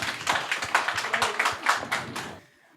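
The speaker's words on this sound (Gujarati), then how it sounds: "એકવાર જોરદાર તાળી થઈ જાય ગોપ્સ માટે" An audience at a comedy roast show claps hard for the comedian Gops, a quick run of sharp, rhythmic claps that stops abruptly near the end.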